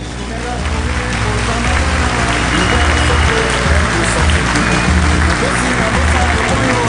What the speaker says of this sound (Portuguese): Sérgio Lopes, e o aplauso,